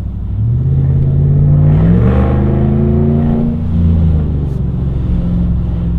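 Deep, loud V8 rumble of a Dodge Ram 5.7 Hemi pickup on a fresh exhaust, rising through a couple of close revs around the middle and then easing back to a steady idle.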